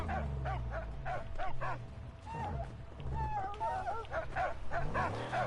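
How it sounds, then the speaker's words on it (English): A dog in the Mad Max video game barks and whimpers in a repeated series of short, high yelps and whines over steady low game noise. "Something's wrong with this dog."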